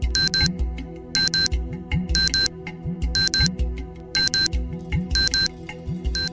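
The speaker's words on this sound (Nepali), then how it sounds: "टेबल घडीमा अलार्म बज्यो" A table clock alarm rings in short, loud bursts of electronic beeping, repeating about once a second with a steady, insistent rhythm and no talking.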